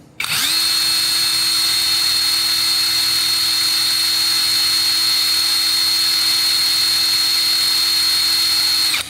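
A PATUOPRO 500NM cordless impact wrench spinning free at maximum speed, a loud steady high-pitched motor whine that spins up quickly and holds constant for about nine seconds before cutting off, close and alone.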